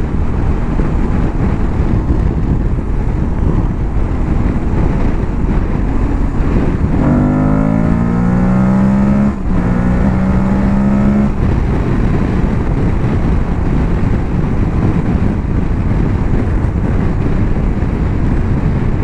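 An Aprilia Tuareg 660 motorcycle engine roars steadily with wind rushing past, rising in pitch through a few gear changes midway before settling back to a constant drone.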